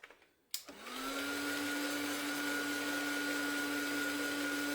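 A handheld heat tool or hair dryer used to dry a freshly painted art journal page, clicking on and then running as a loud, steady whine with a constant hum through the rest of the clip.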